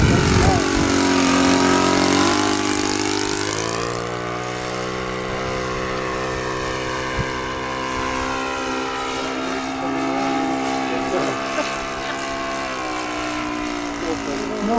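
An electric RC Great Planes Tiger Moth biplane flies past, its motor and propeller giving a steady whining drone that is loudest at the start, then settles into a constant hum, with a voice briefly heard.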